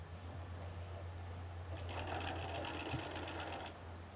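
A sewing machine stitches a quilt piece for a Mariner's Compass pillow block, a quick, even run of stitching lasting about two seconds over a steady low background hum.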